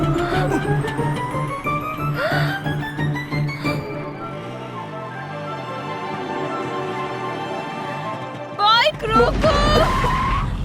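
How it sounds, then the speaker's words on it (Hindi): A car on a road brakes hard at a speed breaker with tires skidding, loud and close, mixed with dramatic film music and sound effects, ending in a sharp screech. "ब्रेक क्यों मारे तुमने?"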